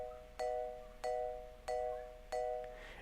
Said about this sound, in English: So I found these bells that are just like this.